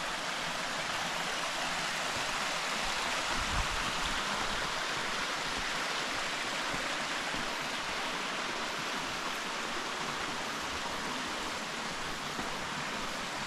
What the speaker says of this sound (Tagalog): Yun, nandito tayo sa falls.